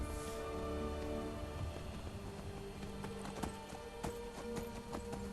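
Horse hooves clip-clop steadily in modded Skyrim, a continuous rhythmic plodding of a ridden horse at a walk, moderately close over a constant game ambience with music-like tones.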